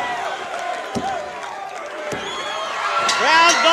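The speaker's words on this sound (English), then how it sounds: "And listen to this crowd." A wrestling arena crowd at a 1985 Mid-South Wrestling event roars and cheers continuously with loud thuds and shouts, while a commentator talks over the noise.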